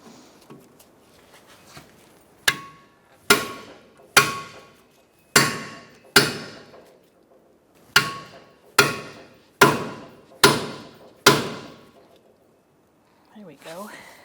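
A hammer strikes a stuck brake rotor on a 2014-2019 Kia Soul during a front brake job, ten sharp metallic whacks in an uneven rhythm, loud and close, each ringing briefly before fading.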